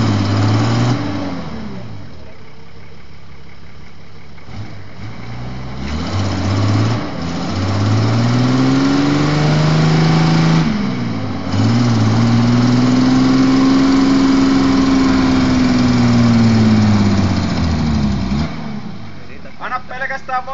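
An engine with the throttle opened, running under load: the pitch rises and falls in long sweeping arcs as it labors and revs, loud and close, with voices talking over it.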